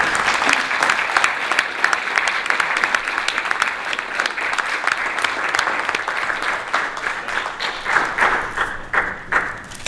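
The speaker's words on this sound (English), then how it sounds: "And would you guys join me in just giving her a round of applause?" A crowd at an event applauds in dense, sustained clapping, loud and close, continuing steadily without talk before thinning slightly toward the end.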